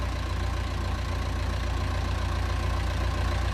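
A narrowboat engine idles with a steady low thumping chug as the throttle is brought back, sputtering slightly but keeping running, close and continuous with no voices.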